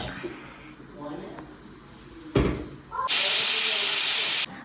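A pressure cooker on the stove, cooking sprouted horse gram and onions for sambar, releases a short burst of steam and then a loud, sustained whistle-hiss lasting over a second, close by, with speech before it.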